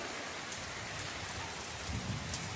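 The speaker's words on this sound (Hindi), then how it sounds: "घर आते आते देख सकते हैं अभी बारिश तेज होने लगा है" Heavy rain falls in a steady, even hiss on a rural village evening, a constant, fairly soft wash of drops with a faint low rumble and no talking.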